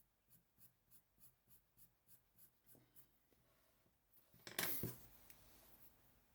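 Pencil sketching on paper makes quiet, rhythmic scratching strokes, about a dozen evenly spaced scrapes, then a louder rustling burst near the end, with no talking.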